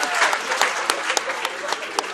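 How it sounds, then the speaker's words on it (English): Crowd applause, a dense patter of clapping with a few sharper claps standing out, steady and fairly loud throughout. "We should clap to that."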